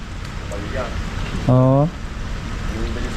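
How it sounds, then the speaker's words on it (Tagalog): Heavy rain pours steadily over a residential subdivision lot in Trece Martires, Cavite, a dense, even hiss throughout, with a short vocal sound cutting in briefly midway. "Matindi ulan eh. Ulan ng ulan eh."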